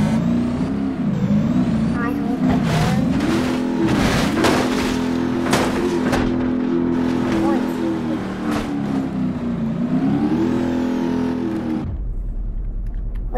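A Stubby T-Series semi truck cement mixer's engine revs loudly and steadily in BeamNG Drive, its pitch rising and falling through the clip before cutting off abruptly near the end.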